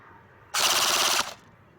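A CYMA AKMS full-metal airsoft electric gun with a wooden stock fires one short full-auto burst, a rapid buzzing rattle of under a second, close and clear with no talk over it.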